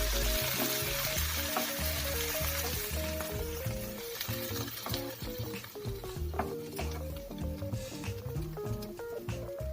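Fried prawns are stirred into masala in a pan for Kerala-style chemmeen roast, a loud, close sizzle with stirring scrapes over background music.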